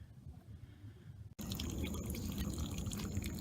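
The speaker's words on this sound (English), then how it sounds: "A big splash came out for a minute." Water bursts from a clogged air conditioner condensate pipe, a sudden loud gush after a quieter dripping start, then a steady, close, continuous splash.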